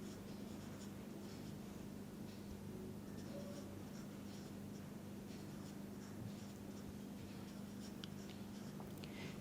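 Pen or pencil writing by hand on paper while noting chemistry electron configurations, a faint, continuous scratching with small stroke taps, quiet and close, alone under a low steady background hum.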